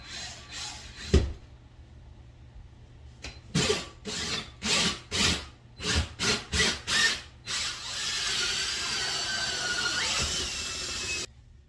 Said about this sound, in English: going to drill the hole.